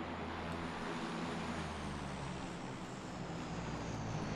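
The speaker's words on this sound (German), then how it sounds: "Sei mal still, Flugzeug." A propeller airplane drones overhead in PUBG, a low steady rumbling engine tone that holds without a break for several seconds, moderately quiet and continuous with no voices.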